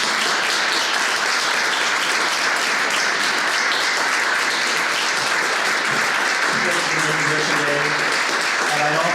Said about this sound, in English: Please give a round of applause as we welcome Jess.